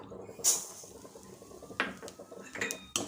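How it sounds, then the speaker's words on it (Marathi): A spatula scraping and clinking in a pan while sesame seeds and peanuts dry-roast on a low flame, giving scattered metallic taps and scrapes, with a few sharper clanks against a quiet background. "प्रथम आपण तीळ आणि शेंगदाणे एकत्र छान असं खरपूस भाजून घेऊया"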